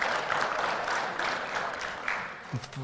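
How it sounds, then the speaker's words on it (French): A church congregation claps for a choir's singing: dense, steady applause filling the room, thinning slightly near the end as a voice briefly speaks. "Vous pouvez vous applaudir."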